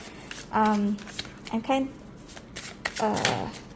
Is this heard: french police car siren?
no